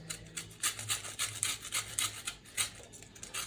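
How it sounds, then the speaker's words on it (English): Lemon zest being grated on a grater for granola bars, a quick run of close, rhythmic rasping strokes, each a short scratchy burst, with no talking. "And now I'm going to grate out some lemon zest into my mix."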